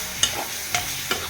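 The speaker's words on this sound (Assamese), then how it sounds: "ধুনীয়াকৈ ভাজি ল'ম।" Silkworms seasoned with salt and turmeric fry in a pan under a faint, steady sizzle, and a spatula scrapes through them in three distinct stirring strokes.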